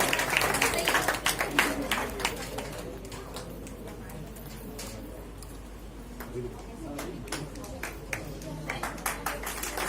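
Audience clapping at a Vistar Foundation award program in Jabalpur, welcoming the Best IT Researcher award recipient; bursts of hand claps come strongest at the start, then thin out beneath ongoing talk and return toward the end.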